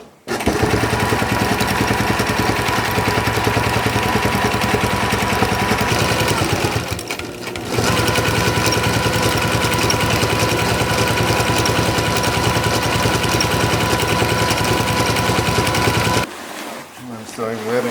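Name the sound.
sewing machine stitching webbing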